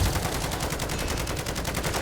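Rapid, continuous gunfire from MW3 Zombies keeps up a dense rattling stream of shots with no pauses, loud and steady throughout.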